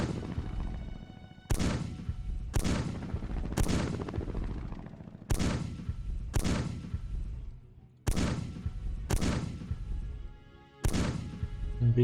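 Battle in the strategy video game SuperPower 2, with loud, sharp gunfire and artillery blasts striking in distinct bursts roughly every second, each ringing out and decaying before the next volley.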